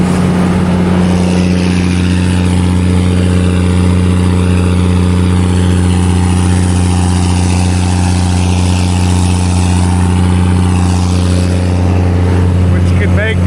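A farm machine's engine runs loud and steady on a cotton farm, with air drawn in through its intake screens, a constant droning hum with strong low tones and no break throughout.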